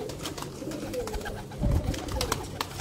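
Pigeons coo on a rooftop in Sialkot, soft low throaty coos repeating near and close among light fluttering and scattered background clatter.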